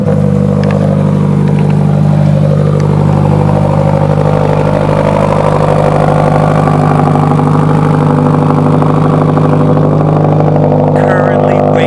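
A loud car engine starts and runs close by, rumbling steadily at idle with a constant low drone throughout.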